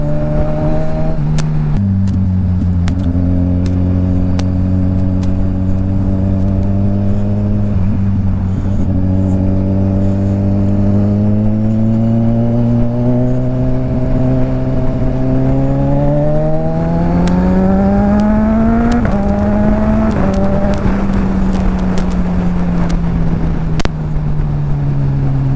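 A Honda Rebel 500 cruiser motorcycle rides by, its engine droning loud and close, pitch rising steadily through gear changes as it accelerates past.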